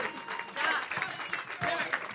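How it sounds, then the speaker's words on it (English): Applause for speakers at an HR event in Columbus, Ohio, moderate clapping and crowd noise running under a host's voice talking over it. "we'll continue to give them a round of applause"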